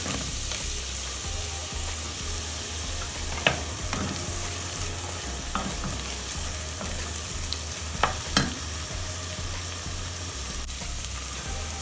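Garlic frying in olive oil for leek and potato soup, a continuous close sizzle with occasional sharp clicks and taps of stirring, no talking.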